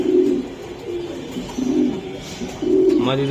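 Racing pigeons coo repeatedly at close range, a rhythm of low throaty coos in rising and falling bursts, several birds overlapping with a brief chirp near the end.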